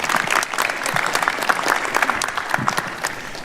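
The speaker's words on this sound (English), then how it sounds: "Applause." Applause from the audience at a campus forum on a strategic plan, many hands clapping in a dense, steady patter at close range for several seconds.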